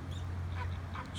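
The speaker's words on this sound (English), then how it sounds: "Flamingos." Flamingos at a zoo give honking, goose-like calls over steady background noise in one short, continuous burst, moderately loud and without talk.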